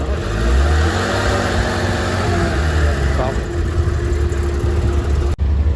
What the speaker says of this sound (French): Voilà la petite GT3 RS 4 litres